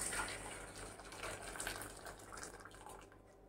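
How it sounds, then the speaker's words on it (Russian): Water left over from boiling potatoes is poured into a cup, a quiet, steady splashing trickle that fades slightly toward the end, with no talking. "Отвар сливаем в чашку."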